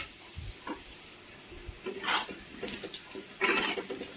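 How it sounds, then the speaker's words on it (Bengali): Potatoes seasoned with salt and turmeric stirred and frying in a pan give a soft, low sizzle with a few scraping strokes and brief watery bursts, fairly quiet and without voices. "আলুটা ভালো করে নাড়াচাড়া দিয়ে একটু ভালো করে ভেজে নেব"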